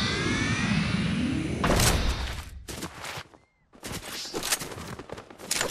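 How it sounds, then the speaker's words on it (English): Bursts of gunfire in a Fortnite battle, dense popping volleys with a loud opening stretch, a brief near-silent gap midway, then more rapid shots and impacts. "There is some gunfire."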